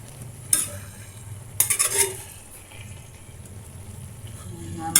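Vegetables sizzling in a pan while a utensil stirs them, with soft continuous frying hiss broken by several scraping, clinking stirs against the metal.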